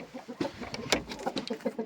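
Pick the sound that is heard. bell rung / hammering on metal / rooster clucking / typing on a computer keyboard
rooster clucking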